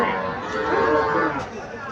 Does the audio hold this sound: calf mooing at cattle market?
yes